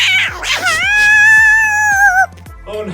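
A cat yowls loudly after having its whisker plucked, a long drawn-out wail that rises and holds, followed by a shorter whimpering cry, close to the listener over a low pulsing backing beat.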